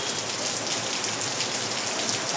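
Heavy rain pours steadily and densely in a continuous hiss, close and even, with no voices.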